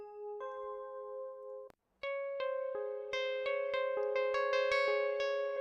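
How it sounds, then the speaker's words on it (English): Synthesized bell tones from an indie roguelike video game ring out one after another: a sustained chime, a short pause, then a steady run of bright bell strikes that grows slightly louder and stack into layered ringing. "We have enough bell sounds."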